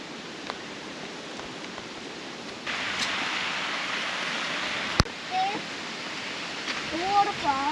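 Steady broadband rush of a waterfall in a national park near Brisbane, Australia, fairly close, with a sharp click and brief faint voices near the end.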